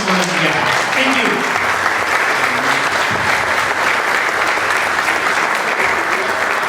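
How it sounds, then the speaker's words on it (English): An audience gives a sustained round of applause after a set of pitch presentations, dense and continuous clapping filling the room at an even level from start to finish. "a big round of applause for each one of you guys"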